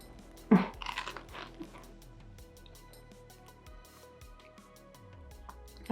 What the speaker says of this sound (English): Let me just take a small bite.